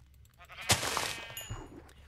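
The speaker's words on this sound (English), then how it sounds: "Okay, sheep right away." A sheep in Minecraft gives a single short bleat over quiet game background sounds, followed by a few faint clicks.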